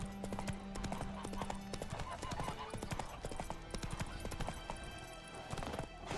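Horse hooves clip-clop steadily in The Witcher 3 as the horse moves along, with a whinny and ambient game sounds layered over the loud rhythmic trotting.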